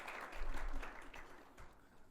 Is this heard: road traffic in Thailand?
no